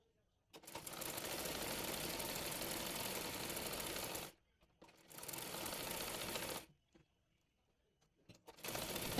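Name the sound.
sewing machine stitching a baby frock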